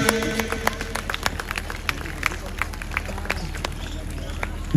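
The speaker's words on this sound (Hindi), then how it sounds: "बार बार मैं यही विनती कर रहा हूं कि तालियां रुकनी नहीं चाहिए" Applause from an audience at a Basant Panchami festival event in Moradabad, a dense steady patter of many hands clapping with sharper individual claps standing out, continuing under an amplified voice.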